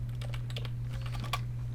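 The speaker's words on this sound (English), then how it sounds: "typing it out." Rapid, uneven clicking of fingers typing code on a computer keyboard, close and fairly quiet, over a steady low electrical hum, with no voices.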